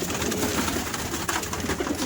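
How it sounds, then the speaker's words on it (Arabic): Pigeons coo softly in a loft, a steady low murmur of overlapping calls against a dense background hum. "ده حمام تقيل يا جماعه اهو."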